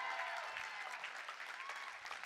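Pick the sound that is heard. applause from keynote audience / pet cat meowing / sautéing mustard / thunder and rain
applause from keynote audience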